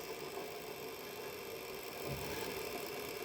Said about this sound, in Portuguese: O motor está bem devagarzinho agora, ó, dá para perceber a oscilação dele